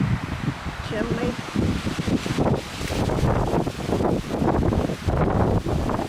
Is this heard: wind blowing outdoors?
yes